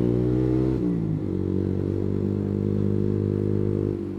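A Honda CS1 motorcycle engine revving hard with the throttle opened, loud and close, its droning pitch dipping briefly then climbing and holding steady before easing off at the end.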